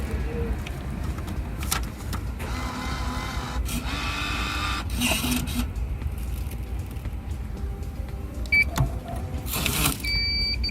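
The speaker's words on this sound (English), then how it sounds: "this was one of those places where you actually order on a machine outside the restaurant" A restaurant ticket-ordering machine outside an eatery in Tokyo whirs and prints with mechanical bursts and short beeps, alongside street and background ambience.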